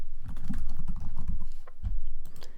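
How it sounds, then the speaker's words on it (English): Typing on a computer keyboard while editing text on a web page: a quick, irregular run of close, crisp key clicks with no one speaking. "You can say, I can type anything."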